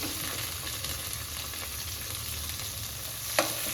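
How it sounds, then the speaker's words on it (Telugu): Chopped onion pieces fry in oil for onion chutney, a steady close sizzle with the occasional scrape of stirring and one sharp clink near the end, with no talking. "కొంచెం మెత్తబడిన దాకా వేగించుకోవాలి"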